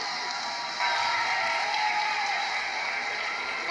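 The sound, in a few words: audience applause after a performance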